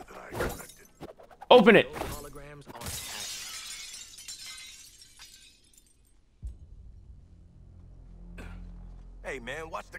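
Glass shattering in the video game Suicide Squad: Kill the Justice League, a sudden loud crash with a trailing glittery spray of shards, framed by character voices talking before and after.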